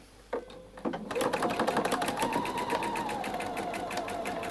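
A sewing machine stitches along the edge of a dress facing, starting with a few short bursts before settling into fast, steady mechanical clatter close by.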